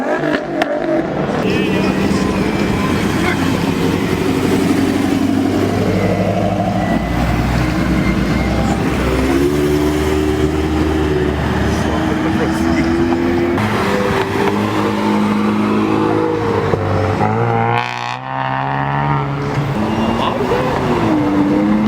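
An Amphicar engine runs loud and steady at a gathering of road-legal race cars, revving in swells amid other car noise, with people talking throughout.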